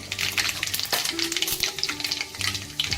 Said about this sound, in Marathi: आता आपण त्यामध्ये राई टाकणार आहोत, त्यानंतर जिरं